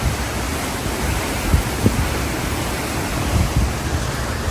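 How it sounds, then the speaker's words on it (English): Hurricane Milton's wind rushes outdoors in a loud, steady broadband roar with small gusty swells and no voices. "The wind's actually calming down a little bit right now."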